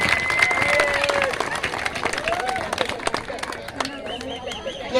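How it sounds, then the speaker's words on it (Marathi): A large crowd at an outdoor village cultural programme claps loudly and steadily, with chatter and a few shouts mixed into the continuous applause. "आपण सर्वांनी त्यांचे जोरदार टाळ्या वाजवून त्यांचे आभार मानायचे आहेत."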